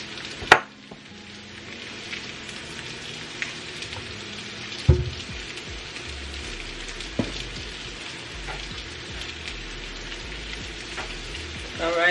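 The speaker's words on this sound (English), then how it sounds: "I'm going to add about 2 tablespoons of butter, and then I'm going to actually baste the lamb chops with this butter" Lamb chops pan-searing in butter give a loud, steady sizzle and crackle like heavy rain, with a few sharp clanks of a utensil against the pan along the way.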